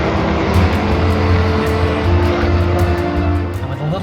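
A Ford Crown Victoria race car drones steadily on track, its engine note loud and continuous with a slight rise and fall as it closes on another car, no talk over it.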